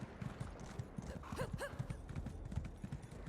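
Horse hooves clop in a steady, fairly quick rhythm as a rider travels on horseback in the Elder Scrolls Online video game, with a brief whinny-like rise partway through, all over a busy game soundscape.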